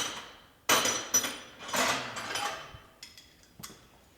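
Metal impacts and clanks from a breaker bar working a stubborn nut, backed by a sacrificial nut, on an International Farmall Super H tractor under restoration: a few sharp, close strikes followed by scattered lighter knocks, with no talking.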